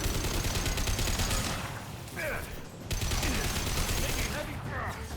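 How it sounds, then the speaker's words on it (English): Gunfire rattles in Mass Effect 2 in two sustained bursts of rapid shots, with a short lull between them, and mechanical clicks and brief tonal chirps in the pauses. "Taking heavy fire."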